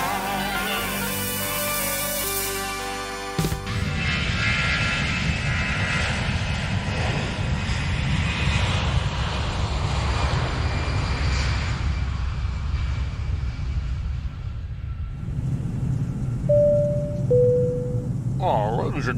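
An airliner's engines drone in flight as a steady low cabin rumble, heard from inside, with a brief chime sounding over it.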